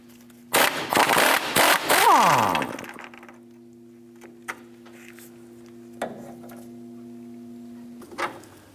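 A power tool loosens a 15mm nut under the control arm of a 1994-2004 Chevrolet S10, a loud rattling burst of about two seconds, followed by a few faint clicks over a steady low hum.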